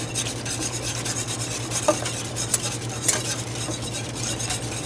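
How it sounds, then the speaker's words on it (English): A fine whisk beats heated milk into a bechamel for mac and cheese, a fast, continuous scraping swish against the pan with a few louder knocks, close and without talking. "Now I'm keeping this moving. A nice fine whisk, just like this."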